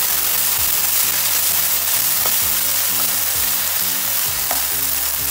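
Dragon fish is sautéed in a pan with tomato sauce, coriander and mint, giving a loud, continuous close sizzle with stirring scrapes throughout.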